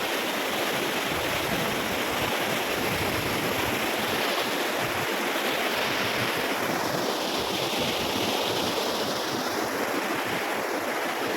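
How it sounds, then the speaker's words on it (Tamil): Water flowing into Nallambal lake near Karaikal rushes steadily in a broad, continuous wash with some wind buffeting, loud and close throughout with no voices. "நல்லம்பல் ஏரியா எப்படி ஒன்று பாருங்கள் தண்ணி வருது இந்த வழியாக தான் வருது"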